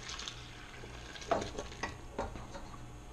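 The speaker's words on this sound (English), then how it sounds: "we're going to pour this into my well" Yeast mixture is poured into a well of flour while making breadsticks, giving soft liquid trickles with a few splashy pours in the middle, close and quiet, with no voices.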